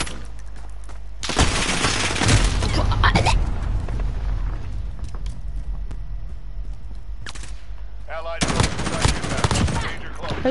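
Loud bursts of automatic gunfire from the Modern Warfare video game, two heavy sustained volleys separated by quieter game ambience, with a player talking over it.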